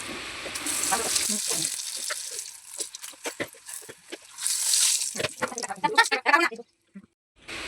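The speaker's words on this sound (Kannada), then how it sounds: "ಈಗ ಯಾವ ಥರ ಫ್ರೈ ಮಾಡ್ತೀನಿ ಆ ಥರ ಫ್ರೈ ಮಾಡಿದ್ರೆ ಸಾಕು" Food sizzling and frying in a pan in a home kitchen, crackling bursts coming and going with stirring, while someone talks over it.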